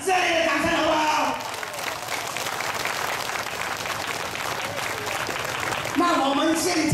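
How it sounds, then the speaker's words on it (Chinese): An audience at an evening political rally breaks into warm, sustained applause, a dense wash of clapping that swells and holds while a voice talks over the start and end. "我们给他一个热烈的掌声好不好？"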